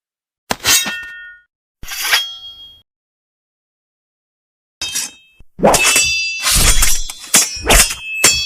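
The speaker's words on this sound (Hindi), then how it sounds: "आखिर में कालिए सपेरे के वार से डॉक्टर फ्रैंक की तलवार उसके हाथ से छूटकर एक ओर जा गिरी" A sword struck from a hand in a dramatic story scene: sharp metallic clangs ringing out, two isolated hits, a pause, then a rapid flurry of loud clashing blows, close and alone.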